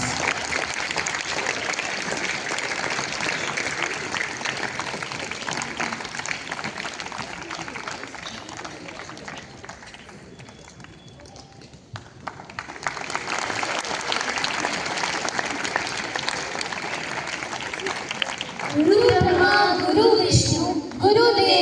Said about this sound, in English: Give a huge round of applause to the three rising stars.